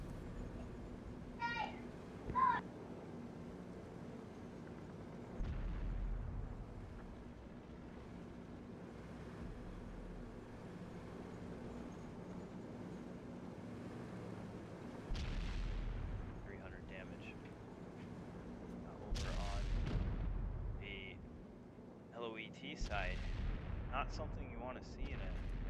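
Tank cannons fire back and forth in a video game battle, with distant booms and impacts spaced irregularly beneath a constant background hum while commentators talk.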